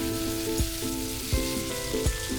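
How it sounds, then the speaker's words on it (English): Beef kabab mixture with chopped green chilli frying steadily in a pan, a continuous close sizzle broken by a few soft knocks of stirring. "fry this for about 2 to 3 minutes"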